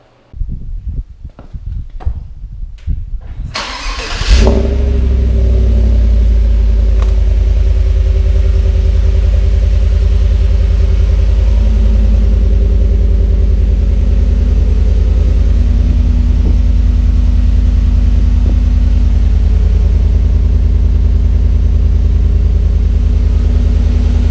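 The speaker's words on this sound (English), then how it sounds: "We're gonna get the first startup clip right here, and then I'll get some more sound clips later, some revs and stuff. This will be a cold start." Cold start of a 2018 Chevy Silverado with the 5.3 V8 and Borla XR-1 exhaust: a brief crank, then a loud deep burst as it fires, settling into a steady heavy rumbling idle that runs alone and close for the rest.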